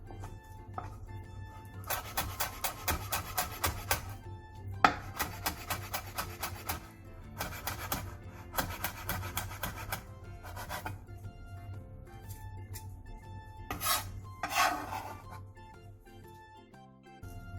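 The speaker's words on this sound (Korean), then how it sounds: "대파의 초록 부분을 길게 갈라준 뒤 쫑쫑 썰어주세요." A knife finely chopping the green part of a leek-style green onion, rapid bursts of crisp rhythmic taps on a cutting board in several runs separated by short pauses, close and quiet.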